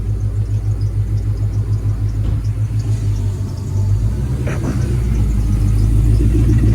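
A car's engine rumbles loudly with a steady, pulsing low drone while it does donuts, swelling stronger toward the end.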